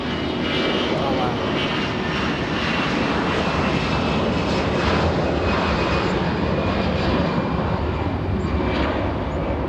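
A large Lufthansa airliner on approach to LAX sends a loud, continuous jet engine roar across the airfield, filling the whole stretch.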